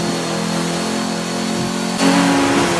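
Car engine revving loudly in the racing game Forza 7 during a rainy race, a steady sustained drone that climbs in pitch near the end, with no talk over it.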